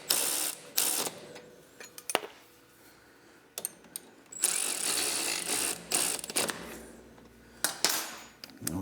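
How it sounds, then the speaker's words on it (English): A ratchet with a 14 mm socket snugs up brake line bolts on a 2024 Triumph motorcycle, giving a few bursts of quiet clicking and mechanical rattling with pauses in between. "So we're going to snug these up, 14 millimeter wrench, 14 millimeter socket."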